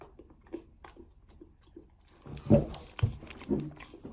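Someone bites and chews milk chocolate made with pineapple and passion fruit, with faint mouth sounds at first, then louder close-up crunching and munching bites.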